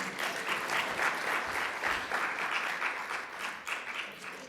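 Sustained audience applause fills an opening ceremony hall of a Caribbean tourism conference in Grenada, a steady dense wash of many hands clapping at moderate level throughout.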